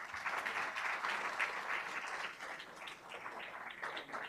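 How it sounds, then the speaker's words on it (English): Steady crowd applause for winners at a city garden contest awards ceremony, a dense, even patter of many hands at moderate volume, continuing unbroken. "If you could give them a round of applause"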